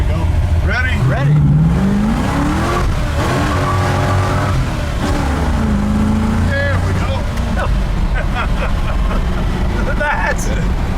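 A 1960 Chevrolet Biscayne with a 496 cubic inch V8 accelerates hard, its engine roaring loudly and rising in pitch, heard from inside the car as occupants talk over it.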